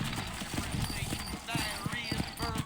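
Sturdy horses clip-clop through a town in the Western video game Red Dead Redemption, with quick rhythmic hoofbeats close by under someone speaking.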